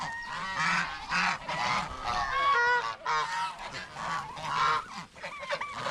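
Farm turkeys in the Philippines give repeated honking, gobbling calls in overlapping bursts, fairly close and moderately loud, with several birds calling back and forth.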